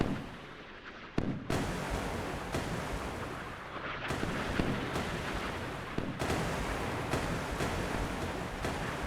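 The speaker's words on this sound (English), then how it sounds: "There goes a missile." Missiles launch in the naval video game Sea Power: heavy booming blasts repeat every second or two over a constant roaring rumble, loud and close, with a sharp crack near the start.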